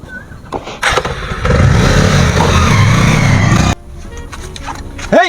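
A motorcycle engine revs up close for about three seconds, a loud rough drone that rises and holds before cutting off abruptly, with quieter clatter before and after.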